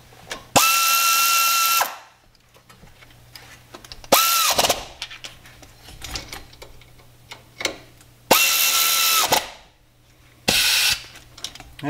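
A ratchet wrench torques 10 mm bolts on the wheel hub assembly of a 2007 Chevy Silverado 3500 Duramax, sounding in four loud, close bursts of fast clicking separated by quieter workshop handling noises, with no talk.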